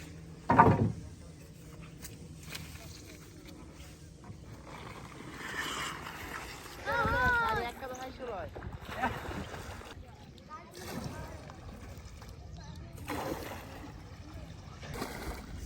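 A fishing boat stranded on dry ground is shoved off the riverbank into the water, with scraping, knocking bursts and a louder dragging stretch midway, while voices talk over a quiet outdoor background.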